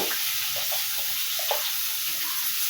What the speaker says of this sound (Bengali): পেঁয়াজ ভেজে নিয়েছি, আলুটা ভেজে নিচ্ছি